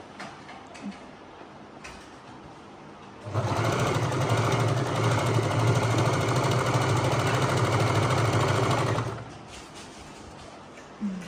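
An ordinary household sewing machine stitches a child's school uniform in one steady, loud whirring run of about six seconds, with quiet room sound before and after.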